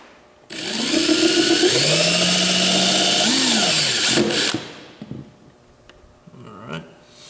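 A power drill bores holes through a plastic kayak hull to fit a console hatch, a loud close whine that ramps up in pitch, holds steady for several seconds, then winds down, followed by faint handling clicks.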